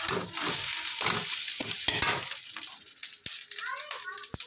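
Malabar spinach sizzles in a hot pan with fried egg while being stirred, with scraping and sharp utensil clicks; a voice chatters nearby.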